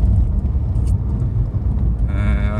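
Steady low road rumble inside a car on the move, the cabin filled with continuous engine and tyre drone throughout; this is the quieter car rather than the one with a noisy wheel bearing, and there is no talking.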